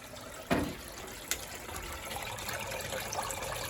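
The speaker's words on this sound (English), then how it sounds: "It sounds like the end of the second rinse. Water's coming out quite clean actually." Steady rushing and trickling rinse water drains from an Indesit Moonie washing machine at the end of its second rinse, with a couple of sharp clunks near the start.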